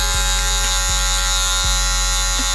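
Electric hair clippers buzz steadily and close while cutting hair, a constant loud hum with faint periodic ticks and no voices.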